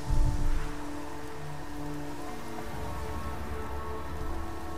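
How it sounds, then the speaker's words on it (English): Steady rain pours down in the open-world zombie game Days Gone, a dense, even patter of drops on surfaces that holds constant throughout, with a slightly louder swell at the start and no talking. "It started raining."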